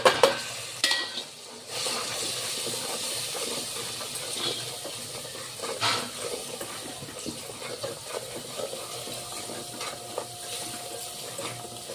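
Masala spices with salt and kasuri methi are stirred while frying in a pan for masala khichdi, giving a steady sizzle and hiss with occasional scraping stirs, close and fairly quiet.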